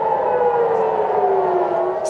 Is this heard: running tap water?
no